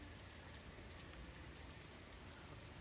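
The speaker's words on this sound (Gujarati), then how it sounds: "ઉઠ્યા ને તારનો ચાલુ છે વરસાદ ગાઈસ." Monsoon rain falls steadily on a flooded village, an even, faint hiss of drops that holds unbroken from start to finish with no other sounds.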